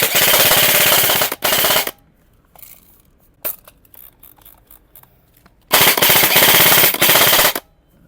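Close bursts of full-auto fire from an airsoft AEG carbine with a metal magazine, likely an E&C M4 or MK18, in two long strings with a quieter pause between them.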